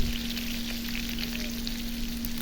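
A kebab sizzles in a pan, a steady, even hiss of frying at close range over a constant low electrical hum, with no talking.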